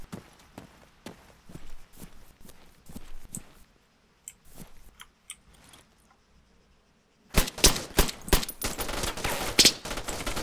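Single-fire rifle shots ring out in the military video game Arma 3: a series of sharp, separate cracks, then a denser, louder burst of rapid shots and impacts toward the end.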